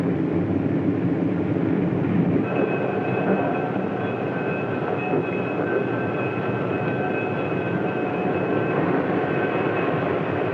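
Steady low rumble of a 1955 passenger train rolling along, with a faint high whine of brakes or wheels settling in as it slows; no talking.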